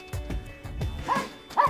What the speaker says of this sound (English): And there's another dog enjoying the beach.